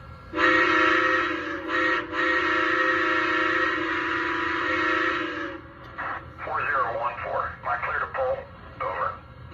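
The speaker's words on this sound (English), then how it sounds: "So I'll just show you the whistle, chuff, and crew talk tower comm sounds here." A Lionel Legacy Union Pacific Big Boy 4014 model train steam whistle sounds in long sustained blasts, followed by crackly radio-style crew and tower voices.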